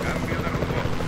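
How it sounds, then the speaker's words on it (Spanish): Helicopter in the dinosaur park game Jurassic World Evolution 2, a steady rotor drone with a thudding pulse that fills the mix, while a voice talks over it. "se nos está cayendo el helicóptero"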